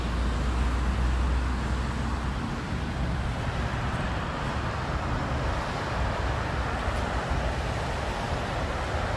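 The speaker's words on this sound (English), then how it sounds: "Ah, good old pace car coming. Nice and noisy diesel V8." A noisy diesel V8 pace car passes amid steady roadway noise in Montreal, Quebec, a broad continuous engine rumble with a low drone early on, heard from a truck cab with no talking.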